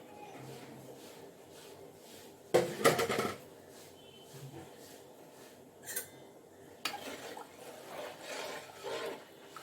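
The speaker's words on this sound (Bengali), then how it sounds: "চাল ধুয়ে আমি দিয়ে দিই" Rice being rinsed in water in a home kitchen while cooking a vegetarian meal, with a brief burst of splashing and swirling followed by softer intermittent sloshes and clinks, no talking.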